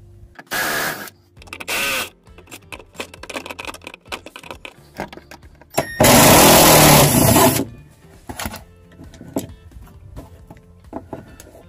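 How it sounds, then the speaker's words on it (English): A power tool on a Ford F450 whirs in short bursts while backing out 7mm screws, with a long continuous run in the middle and small clicks and handling noises between bursts, no talking. "All you're gonna need to do is remove the 7mm screws that hold it in."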